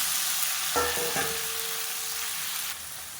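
Finely chopped tomatoes fry in oil in a kadai, giving a steady, even sizzle with a short clink and a faint scraping tone midway, the hiss softening slightly at the end.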